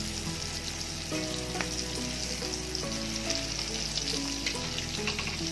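Coconut-stuffed bitter gourds frying in a pan, a dense steady sizzle throughout with a few soft tong clicks and shifts as they are turned, close and fairly loud, no voices.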